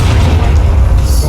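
A video game cannon fires a single heavy, booming blast that fills the whole short moment, loud and close with a deep rumbling tail.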